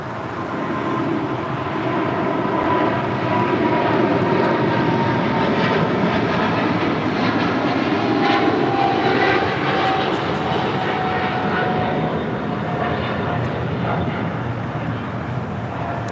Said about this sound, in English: This is China Cargo Airlines Cargo King 222 headed out to Shanghai on a 777 freighter